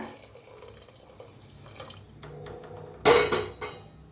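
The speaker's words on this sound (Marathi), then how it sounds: "आता ह्याच्यात गरम पाणी ओतूया" Hot water pours into a pan of dill leaf sabzi in a home kitchen, a brief splashing gush of about half a second after quiet background, followed by a smaller trailing splash.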